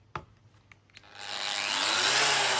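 An Arbortech SpheroPlane power carver cutting into a rustic wooden bowl: a few light taps and rubs, then a loud, steady, rising rasp of the spinning cutter shaving wood, close and continuous to the end.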